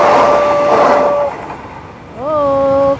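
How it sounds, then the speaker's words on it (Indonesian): A close, loud electric KRL commuter train passes, its horn sounding in two tonal blasts separated by a rumbling gap. "Kereta api yang baru saja melintas adalah kereta api KRL"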